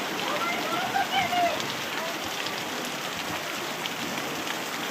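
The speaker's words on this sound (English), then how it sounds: "in a matter of minutes, look how much rain fell" Steady, dense rain hiss pouring onto a surface during a rainy day in Prince Albert, continuous and fairly loud throughout, with a few brief voices rising over it.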